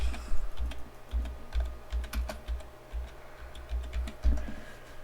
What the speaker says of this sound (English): I'm just typing in the word graphics cards